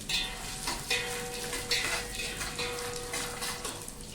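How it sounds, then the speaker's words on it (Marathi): Dry fruits frying in a little oil in a pan for dinkache ladoo, a steady close sizzle with occasional stirring scrapes throughout. "थोड्याशा तेलात सगळे ड्रायफ्रुट्स मस्त फ्राय करून घेऊया"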